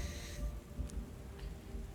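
A game storm of steady rain with low rumbling thunder plays in the video game Book of Hours, a soft continuous wash beneath a couple of faint distant cracks.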